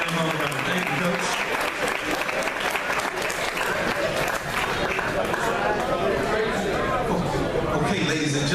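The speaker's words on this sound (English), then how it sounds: "just a big round of applause for our winning McNamara Mustangs today on homecoming" Audience applause for the winning McNamara Mustangs football team at a high school homecoming, a dense, sustained clapping from a crowd with chatter mixed in.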